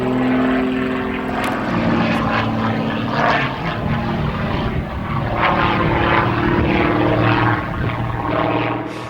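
An Edge aerobatic monoplane with a 327-horsepower engine and a foam, carbon fibre and titanium propeller roars through an aerobatic display, loud and steady throughout with a droning, slightly shifting engine tone.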